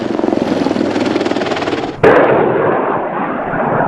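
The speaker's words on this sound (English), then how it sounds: "Helicopters bomb hills in the distance." A helicopter's rotor thumps rhythmically, then a sudden loud blast from helicopters bombing distant hills cuts in halfway through and leaves a lingering rumble.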